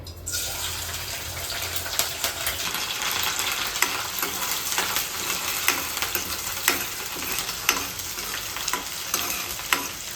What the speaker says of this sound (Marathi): तेल गरम झालेलं त्याच्यामध्ये कांदा कढीपत्ता आणि लसूण ठेचलेले घेतलेले आहेत